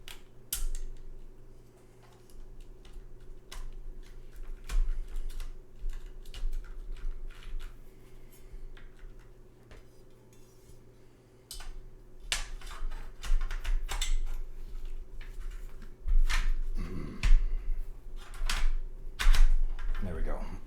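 A Maker Keyboards Dark Magnum Ergo-I mechanical keyboard, unplugged, is typed on in quick clacking runs of keystrokes that grow denser toward the end, over a low steady hum, with some talking mixed in.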